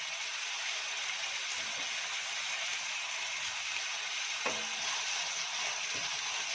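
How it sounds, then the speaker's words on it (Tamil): Steady sizzling hiss of tomatoes sautéing in a hot pan, continuous and close, with a few faint clinks, no talking. "தக்காளி 2 தக்காளி சேர்த்துட்டு நல்லா வதக்கிக்கோங்க."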